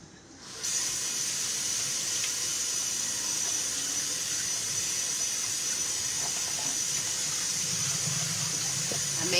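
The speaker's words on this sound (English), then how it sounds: "So I'm just going to rinse this off." A kitchen tap runs steadily over romaine lettuce being rinsed, a continuous close hiss of water starting abruptly and holding level, with faint splashing and handling sounds.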